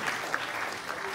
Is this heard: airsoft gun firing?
no